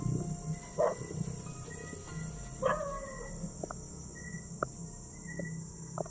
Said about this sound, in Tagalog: Dinig na dinig ko yung mga aso dito.